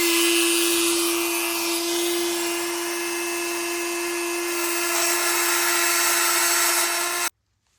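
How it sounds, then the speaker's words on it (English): A Dremel rotary tool grinds steadily on a custom mini bike frame, a loud, continuous high-pitched whine that holds for several seconds and then cuts off abruptly. "I'm just going to go ahead and hit it with the Dremel."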